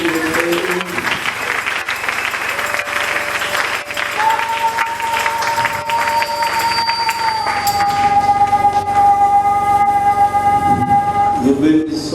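Church congregation clapping and cheering together, a steady dense roar with high, sustained whistle-like cries rising over the applause.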